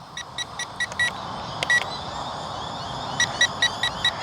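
Repeated short electronic beeps from an XK A280 RC plane in flight, in quick clusters of four or five chirps with a pause between bursts, over a steady whirring motor and wind.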